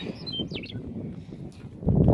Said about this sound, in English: through the whole hike, non-stop bird sounds,